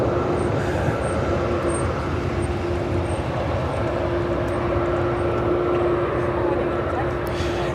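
A United Boeing 787-10 Dreamliner on arrival at O'Hare from Frankfurt, a steady broadband jet roar with a sustained whine, continuous throughout at moderate loudness, with voices talking over it.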